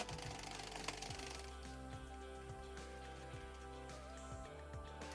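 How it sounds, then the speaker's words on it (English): A hand-cranked circular knitting machine runs steadily with a busy, rattling whir from its needles and carriage, close but fairly quiet and with no one speaking. "now I'm just gonna crank until the piece falls off the needle"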